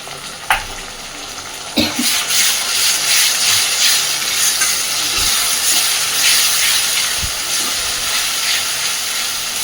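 Ginger, garlic and onion paste sautéing in hot oil for chicken kosha, a strong steamy hiss and sizzle held close and steady, punctuated by a few sharp clanks of a spoon against the pan.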